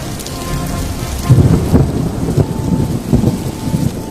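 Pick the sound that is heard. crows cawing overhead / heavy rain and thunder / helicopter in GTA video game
heavy rain and thunder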